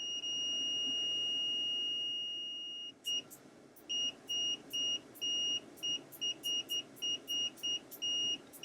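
Continuity beeper of a Ziboo 15B Pro or Fluke 18B+ multimeter: a steady high-pitched tone, then a run of short, irregular beeps as the probes make and break contact, clear and alone.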